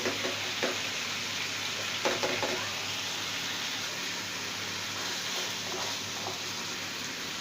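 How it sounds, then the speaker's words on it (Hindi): Mutton frying with yogurt in a pan for a white korma gives a steady, even sizzle, with a few soft stirring scrapes and no talking. "5 मिनट तक हम इसे भूनेंगे।"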